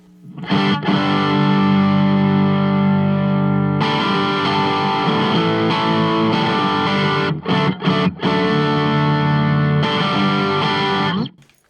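A Stratocaster electric guitar plays loud, chunky chords through a Browne ATOM Nashville Overdrive pedal, with sustained distorted strums, a few quick choppy stops and a final ringing chord cut short.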